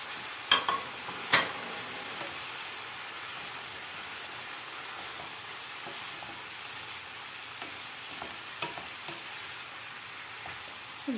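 Chopped onion with green pepper and a Turkish kaplıca pepper frying in a home kitchen pan, giving a steady soft sizzle broken by a few sharp stirring clinks near the start, with no one talking.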